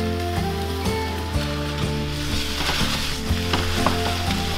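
Extremely lean ground beef frying in a pan, giving a steady sizzle and crackle with occasional stirring scrapes and light clinks over constant background music.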